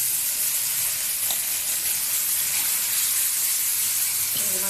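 Shrimp hits a hot frying pan with a loud, steady, hissing sizzle that fills the whole stretch, ending in a brief utensil clatter.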